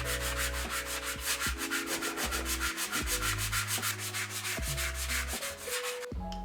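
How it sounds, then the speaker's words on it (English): Rhythmic scraping strokes of sanding dried plaster smooth on a hallway wall, steady and close, with tonal background music running throughout. "After the plaster dried, I went ahead and sanded it down, made it somewhat smooth."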